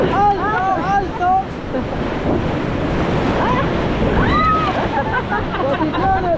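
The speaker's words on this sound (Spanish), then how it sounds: "Nosotros en este preciso momento estamos navegando sobre el río La Antigua" Rushing river water and wind roar steadily through a raft run on the La Antigua river in Veracruz, with voices shouting over the noise.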